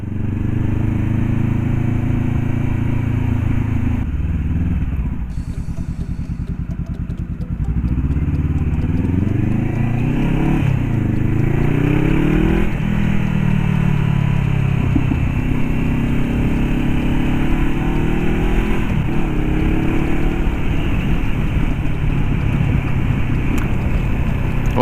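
Honda CBR500R motorcycle with a changed silencer, engine running continuously close-up while riding on damp roads after rain, pitch rising and falling through gear changes under steady wind noise.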